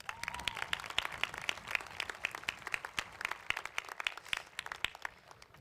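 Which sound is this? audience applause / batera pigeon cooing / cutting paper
audience applause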